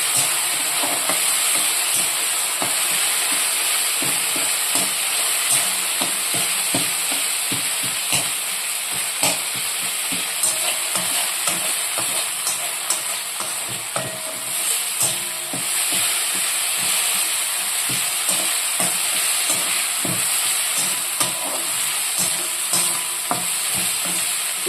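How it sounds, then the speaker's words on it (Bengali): Spice paste for Bengali aloo dum fries in a pan with a loud, continuous sizzle, while a utensil stirs and scrapes it in frequent quick strokes throughout. "এবার এটা ভালো করে আমি মিক্স করে লাল লাল করে ভেজে কষিয়ে নেব"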